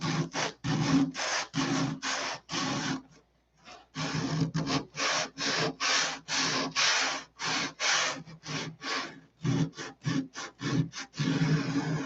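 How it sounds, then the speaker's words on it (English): Coarse-grit sandpaper rubbed back and forth over an aircraft canopy, a steady run of close, loud rasping strokes with a brief pause partway through. "Roughens the canopy up where it needs to be roughened."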